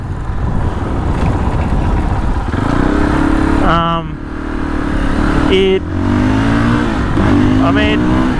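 A Fantic Caballero Flat Tracker 500 motorcycle engine runs loud and close, with steady revving and rising tones as it accelerates through several gear changes.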